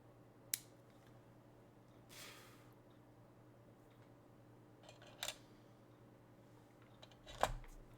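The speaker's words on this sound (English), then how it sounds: "we need to snip this part right here off" Sharp snips of cutters clipping a plastic part from a U96 U-boat model kit sprue, a few isolated crisp clicks spaced apart in a quiet room, the last one loudest.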